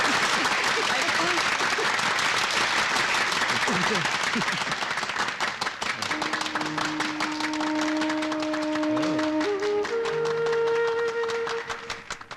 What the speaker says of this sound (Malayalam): കയ്യടി കയ്യടി കയ്യടി കയ്യടി.